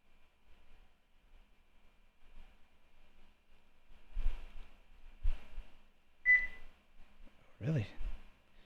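A Simucube 2 Pro sim-racing wheel base used for iRacing gives one short, clear electronic beep in the middle of the clip, set among soft low thumps and a brief voice.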